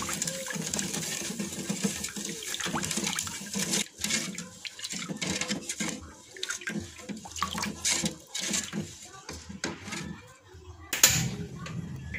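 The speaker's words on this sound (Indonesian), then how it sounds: "lalu tambahkan air sebanyak 900 ml" Water, 900 ml of it, is poured into a pudding jelly mix, splashing and gurgling at close range in uneven surges with brief pauses, while a voice speaks at times.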